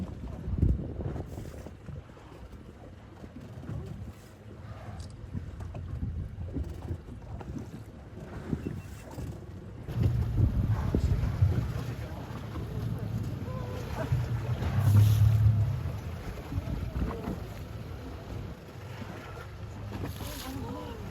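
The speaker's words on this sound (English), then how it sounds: "our little yellow boat bobbing around in the water" Steady wind buffets the microphone while sea water laps and sloshes around a small boat on a whale-watching trip, with low rumbling surges throughout.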